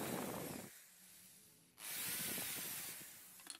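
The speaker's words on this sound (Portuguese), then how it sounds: "vem com a furadeira novamente" A power drill whirs into wood for a round wooden planter in two loud bursts separated by a short pause, with a harsh grinding, rubbing texture.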